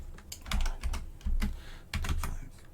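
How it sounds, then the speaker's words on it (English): Keystrokes on a computer keyboard as an iPhone model and storage size are entered into a search, arriving in several quick bursts of close, crisp clicks with short pauses between them and no talking. "So we're going to type that in"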